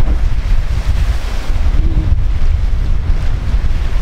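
Strong wind buffets the microphone over rough ocean waves, a continuous loud roar of surf and gusts with no voices, as weather builds toward gale force.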